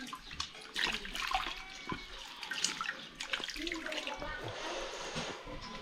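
Running water splashes close by as something is rinsed and washed, with irregular sloshing and dripping over a steady flow.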